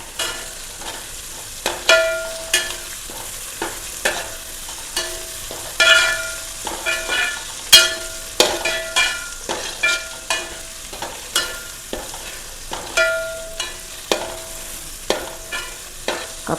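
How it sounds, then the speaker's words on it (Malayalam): Curry leaves frying and being stirred in a pan for tattukada-style kappa biryani, a steady close sizzle broken by repeated scraping and clinking strokes of a spoon against the pan, with no voices. "അതിലേക്ക് നമുക്ക് കുറച്ച് കറിവേപ്പില ഇട്ട് കൊടുക്കാം."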